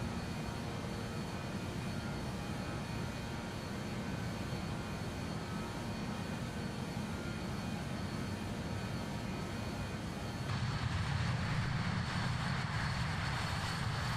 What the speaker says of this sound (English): Airplane sounds pretty damn good.